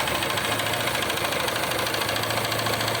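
A Honda CG 150 motorcycle engine runs with a loud knocking noise, a suspected cylinder, piston and ring fault, heard as a continuous close-up mechanical clatter over a steady engine drone.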